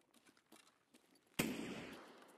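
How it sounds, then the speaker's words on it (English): Flashbang grenade detonating in a video game: a single sharp, loud burst that cuts through faint background sounds, followed by a sustained hissing ring that slowly fades. "It's a flashbang. That's a good ass flashbang."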